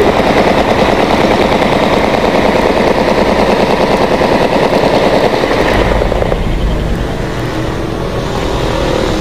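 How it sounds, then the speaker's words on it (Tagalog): Intense exchange of rapid automatic gunfire during an urban battle in Zamboanga City, loud and dense bursts that run almost continuously before easing slightly near the end. "Maririnig din ang matinding palitan ng putok."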